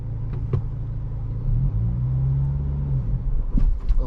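A 2023 Acura Integra's engine hums low and steady in first gear, then swells into a fuller, rising drone as it accelerates, heard from inside the cabin with a couple of faint clicks and no talking.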